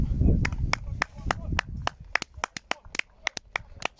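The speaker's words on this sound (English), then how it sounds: "And carried off, and we will applaud." Scattered, uneven handclaps from a small crowd at a Leith v Trinity match, applauding as an injured player is carried off the pitch. Low murmur opens the moment, then sharp individual claps ring out.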